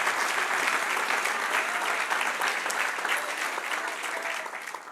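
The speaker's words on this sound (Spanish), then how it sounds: "Denle un aplauso al que vive." Sustained, loud applause from a church congregation during a sermon, steady clapping filling the room for several seconds and tapering slightly at the end.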